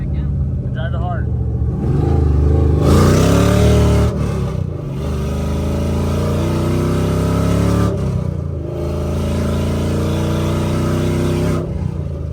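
Nissan S13 fitted with a new exhaust accelerating hard through first and second gear, its loud engine note rising and falling through shifts over about twelve seconds, with people talking over it.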